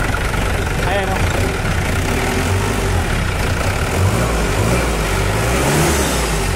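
A car engine that had sat unused for over a year runs steadily after being started, with rumbling idle and occasional revs, loud and close. People talk over it throughout.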